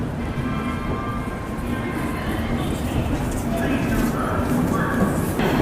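A passenger train on the Delhi–Darbhanga route rumbles along with a steady, loud low roar and clatter that builds slightly toward the end, with a voice talking over it.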